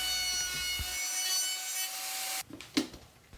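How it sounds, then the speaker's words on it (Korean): A table router rounding the edge of a wooden sled runner: a loud, steady high-pitched whine with bright tonal overtones that cuts off abruptly, followed by a few close knocks and handling thuds of the wood. "썰매날 목재의 한쪽 모서리를 테이블 루터로 라운드 처리를 하고"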